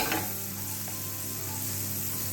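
Onions caramelise in butter in a frying pan, giving a steady, close sizzle with a faint crackling hiss and a low hum underneath, continuous throughout with no one speaking.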